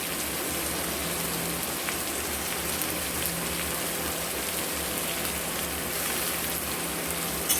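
Chopped garlic and slit green chillies fry in hot oil in a pan, giving off a steady, even sizzle like rain that is fairly faint and close, with no pauses and no talking.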